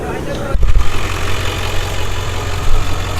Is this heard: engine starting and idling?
yes